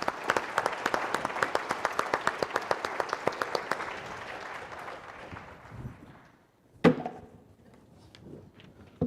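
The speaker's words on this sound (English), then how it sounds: "A big round of applause for all of them." Banquet audience applauding graduates at a high school alumni dinner, a dense burst of clapping with sharp regular claps standing out, tapering off, then a loud thump and voices after.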